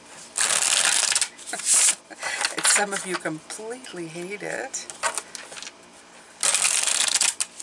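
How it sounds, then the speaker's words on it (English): A tarot card deck being shuffled close up, with riffling bursts at the start and again near the end, and a person talking in between. "Let me shuffle. I know how some of you really love when I shuffle."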